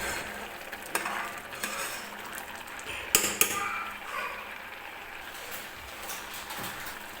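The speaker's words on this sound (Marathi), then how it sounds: "तर सतत हलवत राहायचं आहे, खाली लागलं नाही पाहिजे. तर व्यवस्थित मी चमच्याने हलवून घेते" A spoon stirs a thickening kalakand milk mixture made from split milk in a pan, with soft scraping and a few sharp clacks against the metal over a faint sizzle, close and quiet.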